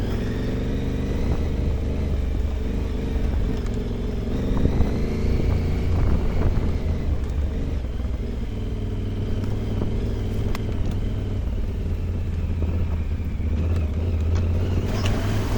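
A motorcycle rides down a rutted, deep-rutted trail descent, its engine droning steadily and loudly with shifting revs and brief surges, plus occasional knocks and rattles from the rough ground, no voices.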